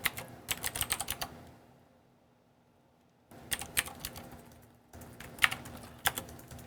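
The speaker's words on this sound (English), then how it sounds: "Please excuse the clicky keyboard." Clicky computer keyboard typed in fast bursts of sharp, crisp keystrokes, close up, broken by a couple of silent pauses before typing resumes, with a faint steady hum underneath and no talk.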